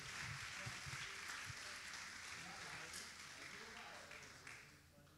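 A church congregation claps during an evening family worship service, a broad wash of applause that fades gradually toward the end, with voices mixed in.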